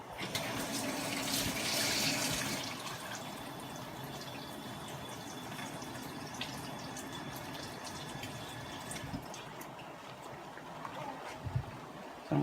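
Tap water running steadily into a sink as seafood is rinsed for a seafood boil, a continuous close splashing stream with faint clinks near the end.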